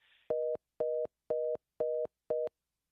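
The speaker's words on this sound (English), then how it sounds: "I didn't even know that phones still made that sound when they dropped." A telephone busy tone after a dropped call: five even, steady beeps in a regular on-off rhythm, loud and clean, with a brief faint hiss at the start and no voices.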